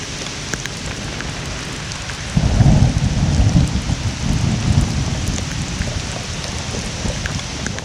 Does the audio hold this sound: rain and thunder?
yes